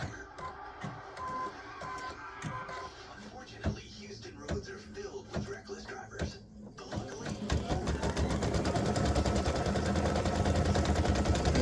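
A free-standing lace embroidery machine stitches the upper part of a ribbon-shaped breast cancer awareness design, a steady mechanical whir and rapid needle clatter that grows louder and denser toward the end, with a voice talking over it at first.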